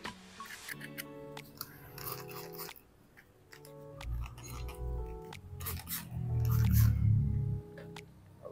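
Intermittent rubbing and scraping strokes of a wet magic eraser scrubbing scratches on a helmet, close and fairly quiet, coming in short bursts with pauses between.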